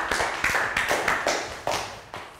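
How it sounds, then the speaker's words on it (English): A small class of Year 3 children claps in an English lesson, a few uneven bursts of hand claps and taps close by with no talk, fading after each burst. "Round of applause, guys."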